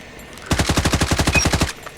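Rapid automatic gunfire from the CR-56 AMAX rifle in a ranked shooter match, one steady burst of about a dozen evenly spaced shots lasting just over a second, loud and close with no talking.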